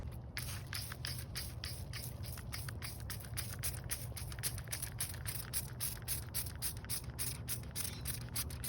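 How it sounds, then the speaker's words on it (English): An aerosol spray can aimed at cobwebs in a storage area hisses steadily and close by for the whole stretch, with a sputtering, crackly texture throughout and no voices. "I'm gonna go spray these cobwebs over here"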